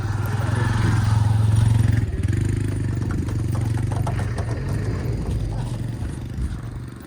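Motorcycles and scooters arrive at a Holi gathering, their engines a loud, steady mid-range rumble with clattering and revving that eases slightly toward the end, with faint voices underneath.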